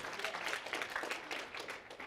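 A seminar audience breaks into scattered applause, a soft, fairly distant patter of many hands clapping in an irregular rhythm throughout.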